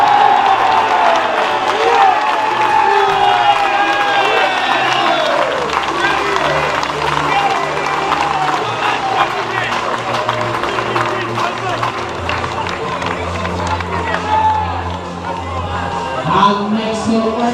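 A crowd at a National Conference League rugby league grand final between Siddal and West Hull claps and cheers in a long, sustained burst, the dense applause running throughout while a voice speaks over it.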